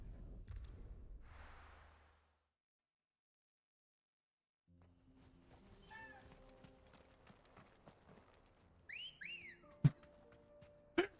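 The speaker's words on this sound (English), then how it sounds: "that whistle he does every time, it just makes me laugh" A character in the video game Final Fantasy XVI whistles in a couple of quick, bright rising chirps near the end. The whistle sits over quiet game ambience and follows a short silent gap, with a few sharp clicks close by.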